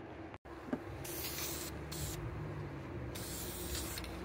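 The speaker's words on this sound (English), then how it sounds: "let's get a coat of paint on that" Continuous hissing spray paint coats a transmission pan from a 1965 Thunderbird Hardtop, close and steady with brief gaps between passes.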